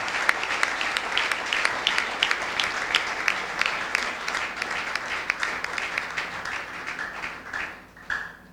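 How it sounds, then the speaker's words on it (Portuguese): A congregation applauds a preacher at a church gathering, steady dense clapping from a crowd that fills the space and then tapers off near the end. "Será que podemos dar uma salva de palmas por este homem de Deus?"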